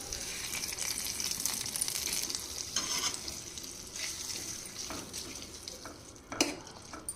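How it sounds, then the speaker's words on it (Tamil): Mustard seeds, cumin, curry leaves and dried chilies sizzle in hot oil as a tempering for ridge gourd kootu. A steady close crackle runs throughout, with a few sharp utensil clinks and stirring scrapes near the end. "இப்போக்கு கடுகு, கொஞ்சம் சீரகம், கருவேப்பிலை, காஞ்ச மிளகாய் போட்டு இப்போ தாளிச்சிட்டேன்."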